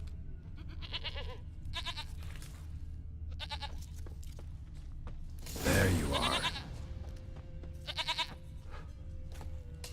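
Goat bleating in the video game The Witcher 3: Wild Hunt, several repeated bleats spread across the clip over steady game ambience, with a brief burst of rustling noise midway and a short line of speech.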